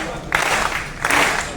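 An audience breaks into clapping during a poetry recital at a Red Fort kavi sammelan, two short bursts of applause mixed with the poet's voice.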